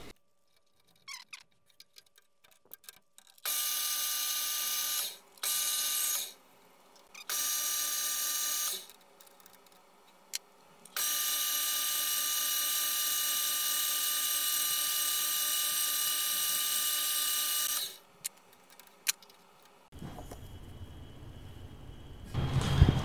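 A metal lathe faces and bores a small part with a drill to make a custom heat-set threaded insert tool, giving a loud, steady, high-pitched machining whine in several long runs broken by brief pauses.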